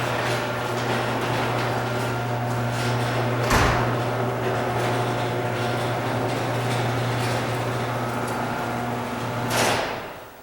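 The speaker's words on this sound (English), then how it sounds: "I'll close the side door." A side door closes in a home garage during DIY electrical work, with one thud near the start and another near the end, heard against a constant mechanical hum with no talk.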